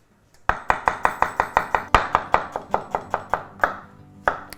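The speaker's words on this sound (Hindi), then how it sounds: "गर्म करने के साथ साथ प्याज स्लाइस करना है" A knife slices onions on a board, about twenty crisp, evenly spaced cuts in quick rhythm, slowing toward the end, close and clear.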